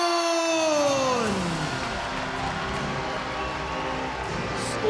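Arena crowd applauding and cheering for fighter Thanh Vu after his bout with Kevin Belingon, a steady, loud wash of clapping and voices that stays full throughout, with a descending tone near the start.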